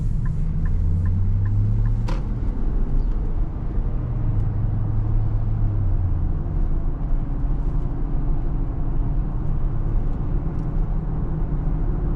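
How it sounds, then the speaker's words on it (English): Steady, loud low rumble of tire road noise inside a moving 2023 Nissan Pathfinder Rock Creek with a 3.5 engine, a continuous cabin drone without pauses and no talking. "one thing you're going to notice is the road noise with these tires"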